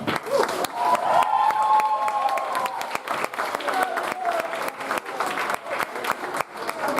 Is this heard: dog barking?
no